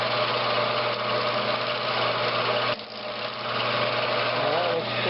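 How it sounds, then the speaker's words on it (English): A wood lathe spins up while shaping the outside of a bowl, giving a steady close motor hum with a brief dip partway through before the drone climbs and holds again. "I'm going to speed my lathe up and try to shape the outside of this bowl."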